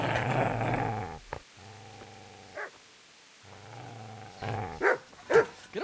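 A dog growls in the Kingdom Come: Deliverance video game, low rumbling snarls in two sustained stretches separated by a pause, followed by sharper louder yelps or snaps near the end, close and alone without talk.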